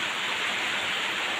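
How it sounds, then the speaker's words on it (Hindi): A sudden downpour at a home sounds as a continuous, even wash of rushing rain noise, steady and fairly loud with no talking over it. "इतनी तेज़ी से एकदम से बारिश होने लगी है"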